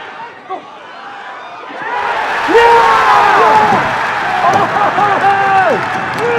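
A football crowd cheers and whoops after a goal at a Wanderers match, the roar swelling from quiet into loud shouting with wavering voices, people talking over it.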